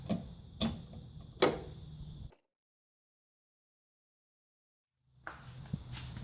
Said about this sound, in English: Just again use our socket wrench.